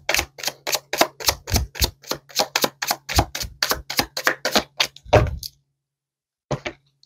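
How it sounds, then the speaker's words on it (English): Tarot-style cards being shuffled by hand give a fast, even run of crisp flicking snaps close by, ending in a longer rustling slide as a bunch of cards spill out, then silence and one last soft flick, with no speech. "A whole bunch of cards came out."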